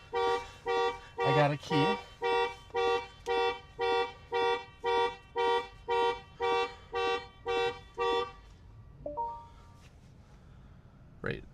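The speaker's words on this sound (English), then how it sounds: "that is what happens if somehow you get the alarm triggered" A Rivian vehicle's alarm sounds a loud rhythmic series of about fifteen evenly spaced honking tones, each roughly half a second long, then stops; a person speaks briefly afterward.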